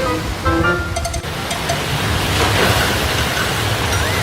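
Ocean surf washing onto a beach, a steady broad roar of breaking waves, close and continuous, with a few faint tonal chirps early on and no talk.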